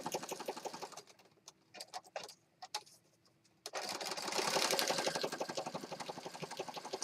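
A sewing machine stitches around the edge of an unfinished journal, rattling in fast rhythmic bursts with a brief stop-start stretch in the middle before running steadily and loudly again up close.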